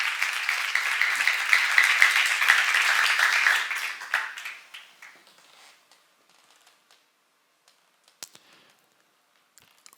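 An audience at a church seminar claps loudly and densely for about four seconds, then the applause thins out into a few scattered claps and fades to near silence, with a couple of isolated late claps.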